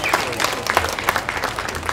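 An audience at a cattle show, where heifers are being judged, gives a short round of applause, with quick, close claps mixed with some crowd murmur for just under two seconds.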